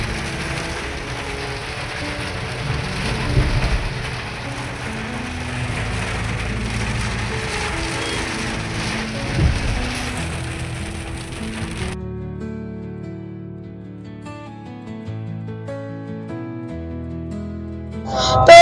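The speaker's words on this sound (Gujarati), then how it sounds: "તો જો કેટલો ધોધમાર વરસાદ પડે છે" A heavy monsoon downpour falls in traffic near Kalupur railway station in Ahmedabad. A dense, continuous rush of rain noise fills the first part, then thins into quieter, sparser sounds.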